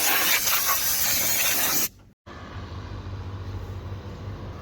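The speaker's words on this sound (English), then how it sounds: "The old wax and grease remover." Wax and grease remover is sprayed onto the body of a first-generation Acura Integra, a loud continuous aerosol hiss for about two seconds, then a brief pause and a quieter low hum.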